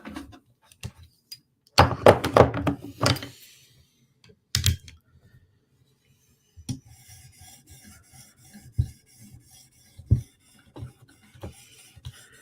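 Tanto-style M4 PM2 steel knife blade worked across an 800 grit sharpening stone, bursts of gritty rasping strokes with pauses, then lighter scattered scraping and clicks, close and alone.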